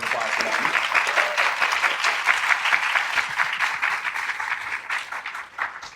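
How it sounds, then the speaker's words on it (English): Audience applause at the close of a panel talk on arts careers, a steady dense wash of many hands clapping that holds for several seconds and tapers slightly at the end. "Round of applause for them."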